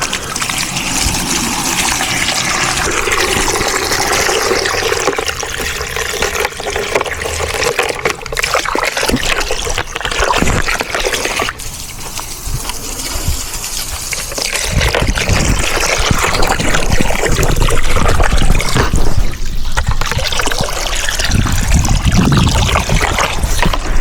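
Water pours steadily into a container outdoors during a budget backyard fence repair, a continuous loud splashing trickle that grows slightly fuller toward the end, with no talking.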